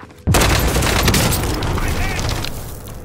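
An explosive charge going off in Call of Duty: Warzone, a sudden loud boom after a short quiet moment, followed by a long rumbling, crackling tail with voices talking over it.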